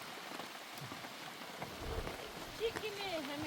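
Rain falls steadily on a wet, muddy day in a nomadic camp, a dense hiss of drops on surfaces with some faint voices and a few brief higher sounds in the background.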